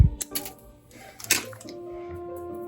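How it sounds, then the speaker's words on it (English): Small wire cutters snip off excess jewelry wire on a beaded earring, giving a few sharp close clicks and ticks, the loudest near the middle, followed by a quiet steady room tone. "And then you can trim off the extra wire."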